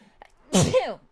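A single sharp sneeze, close and loud, bursting out after a brief quiet moment.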